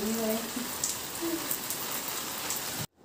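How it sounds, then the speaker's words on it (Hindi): Heavy monsoon rain pattering steadily on surfaces with a dense, continuous hiss, fairly close, then cutting off abruptly near the end; faint voice-like tones sit underneath early on. "अब की बार तो इतनी बारिश हो रही है कि इतनी बारिश कई सालों बाद हुई है शायद"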